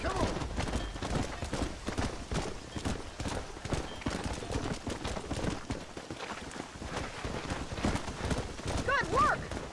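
Horses in Red Dead Redemption clip-clop in a rapid, uneven gallop of many hooves, loud and close, with a brief whinny toward the end and voices mixed in.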